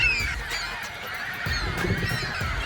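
Many seagulls call at once in overlapping, honking cries, a busy chorus at moderate distance with no talking.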